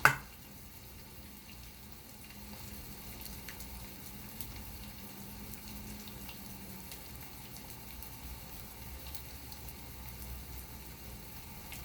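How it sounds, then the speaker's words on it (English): Quiet, steady sizzle of salmon patties frying on a hot griddle, soft and continuous with a light crackle throughout, no voices. "So I'm frying my patties on my griddle."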